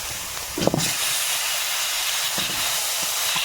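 Tender taro leaves hit a hot pan with prawns and spices, bursting into a loud, steamy hiss that keeps going as the greens are stirred with a few soft knocks.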